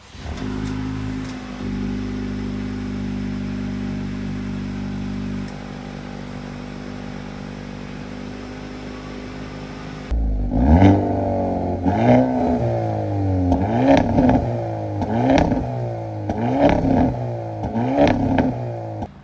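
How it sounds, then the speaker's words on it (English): A Hyundai Elantra N idles steadily from a cold start, then its exhaust bursts into loud, repeated revving with rising and falling pitch, each rev snapping back in quick succession. "The exhaust just from cold startup on the Hyundai Elantra N is much louder."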